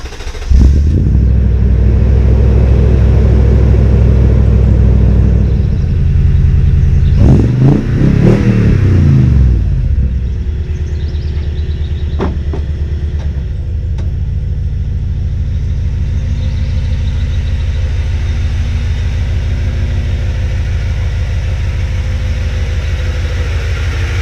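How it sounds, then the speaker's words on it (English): A Toyota Tundra Platinum Pro pickup truck cold-starts with a loud cranking surge and rev, then drops into a steady, deep idle rumble that carries on close to the microphone with no talking. "Let's do a little cold start on the truck"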